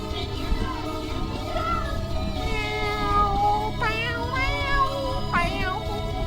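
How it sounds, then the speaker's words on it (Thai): Several cat meows in the Roblox game Forsaken rise and fall over a busy game soundtrack, two sharp ones standing out near the end, with some chatter in the background. "แมว"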